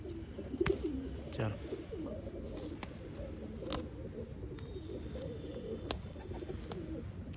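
A pigeon coos softly in short low bursts while its feathers are plucked by hand, with occasional sharp clicks and faint handling noise close by.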